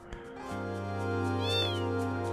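A cat meows once in the video game Final Fantasy VIII, a short rising-and-falling cry over sustained, steady musical tones from the game.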